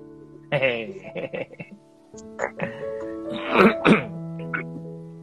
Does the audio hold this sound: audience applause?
no